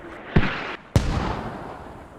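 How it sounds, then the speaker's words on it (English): Two mortar shells from the video game Squad burst in quick succession, each a sharp, loud blast trailing into a rumbling decay. "Mortars, MEA mortars coming in."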